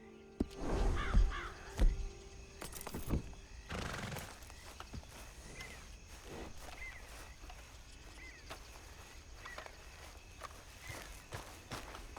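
A horse in Red Dead Redemption 2 neighs and snorts, with loud hoof clops and footsteps at first, then quieter outdoor ambience with faint bird calls.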